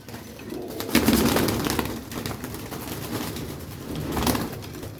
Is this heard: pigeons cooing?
yes